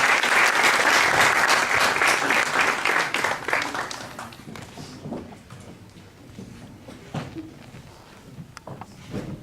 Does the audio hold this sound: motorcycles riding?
no